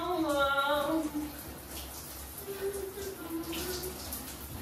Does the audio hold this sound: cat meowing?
no